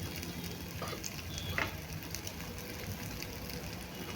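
Egg bhurji fries in a pan, a soft continuous sizzle with a few faint clinks of stirring, quiet and close.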